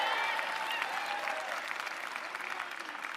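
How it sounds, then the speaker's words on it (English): Graduate students at the University of Wisconsin applaud and cheer for Dick Cheney, a steady wash of clapping with scattered whoops, somewhat distant. "They're cheering for Dick Cheney."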